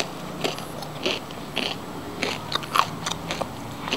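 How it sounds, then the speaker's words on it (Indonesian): Crispy fried chicken, cooked straight from frozen, being bitten and chewed up close, giving a series of sharp crunches spaced about half a second apart over a quiet background. "Kriuk-kriuk, crispy."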